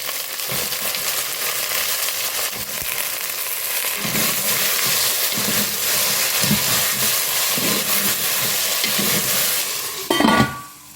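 Two chopped tomatoes and brinjal fry loudly in a pan for a mochai karuvattu kuzhambu, with a strong continuous sizzle, scraping stirs, and a sharp clatter near the end.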